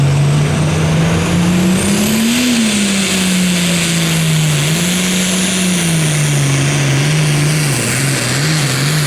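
A super farm tractor pulling at a tractor pull in Rossville, Illinois, its engine roaring loud and close with a steady revving drone that rises and falls throughout.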